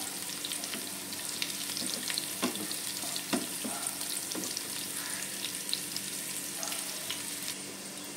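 Garlic frying in oil in a pan, a steady broadband sizzle with occasional light clicks and scrapes from stirring, continuous and fairly close.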